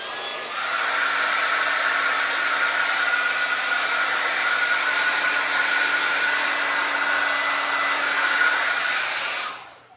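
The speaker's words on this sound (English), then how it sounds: "we're going to get the blow dryer back out" A hair dryer blows steadily with a high, even whine and rushing air for several seconds, then switches off.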